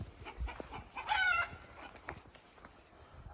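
Hens and chickens in a farmyard give faint, scattered clucks, with one brief louder call rising over a soft outdoor background.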